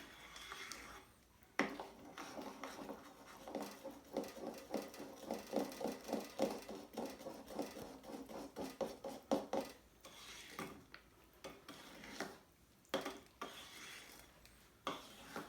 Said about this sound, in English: we'll just mix that all through by hand. Incorporating in the egg, milk and golden syrup mixture.